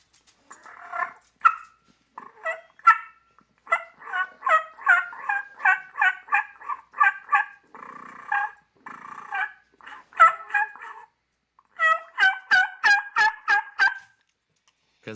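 A hunter's mouth call imitates an agitated turkey hen, rapid series of sharp yelps and cutting notes in repeated bursts, loud and close with brief pauses, no talking.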